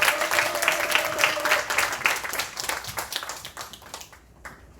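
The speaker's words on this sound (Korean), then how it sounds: "박수로 다시 한번 환영했습니다." A church congregation claps together, brisk and lively at first, then thinning out and fading to a few last claps.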